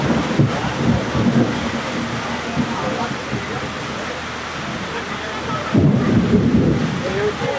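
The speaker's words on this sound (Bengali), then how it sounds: "অনেকগুলো বাজ পড়ে যাচ্ছে, আর এখনও তো অঝোর ঝড়ে বৃষ্টি পড়ছেই" Heavy monsoon rain pours steadily over a Sundarbans mangrove forest while loud rumbling thunderclaps roll through, one strong crash breaking in near the end over the constant downpour.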